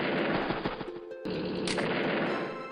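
Mech unit firing in the video game Advance Wars: Days of Ruin, a dense burst of crackling gunfire that runs continuously, cut by a brief gap and a short high tone partway through.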